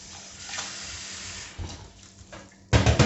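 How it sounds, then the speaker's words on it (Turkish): Hot water is poured into a bowl while cleaning a fermentation bucket, a steady hissing splash running for a few seconds before a louder, close burst of pouring near the end. "Şimdi bir kasenin içerisine sıcak su alıyoruz"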